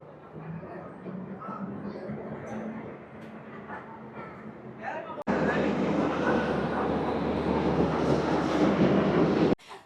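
The Amrit Bharat Express pulls out of Sealdah station bound for Varanasi. Muffled voices and cabin noise come first, then a sudden jump into a loud, steady rolling rumble of the moving train.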